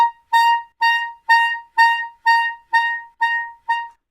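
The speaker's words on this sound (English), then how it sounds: "Taking the high C, and I'll start by huffing it loudly." Short, separate air bursts on a clarinet's high C, eight evenly spaced huffs that each start strong and fade, with quieter tails as the series goes on. Pitched and close, with no talking.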